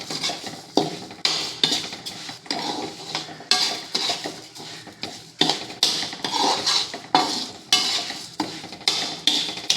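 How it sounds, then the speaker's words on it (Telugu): Rice mixed with turmeric and ginger-garlic being fried and stirred in a pot, with repeated scraping and clinking of a metal spoon against the pot, close and steady. "పసుపు, అల్లం వెల్లుల్లి కొంచెం కలుపుకున్న రైస్ని వేసి ఇప్పుడు బాగా ఫ్రై చేసుకుందాం."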